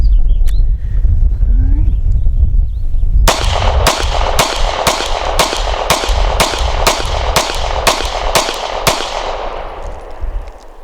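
Sig Sauer P365 pistol shooting a full magazine of Fiocchi 115 grain ammunition, about a dozen loud, sharp shots in quick, fairly even succession after a quiet start, ending with a fading echo.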